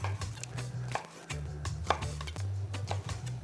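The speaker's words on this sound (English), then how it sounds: "then we just cut it into rings" A knife slices cleaned calamari into rings on a board, giving a run of crisp, evenly spaced chopping taps up close over a low steady hum.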